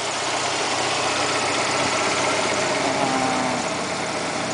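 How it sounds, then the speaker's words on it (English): A four-cylinder car engine in good running shape idles steadily and close by, a constant low rumble with slight vibration and no voices. "What we got here is a four cylinder. It's in good shape, runs good."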